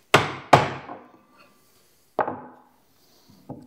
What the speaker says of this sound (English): we're just going to use a holdfast again to clamp the board to the bench.